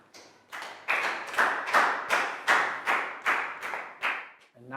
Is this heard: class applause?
yes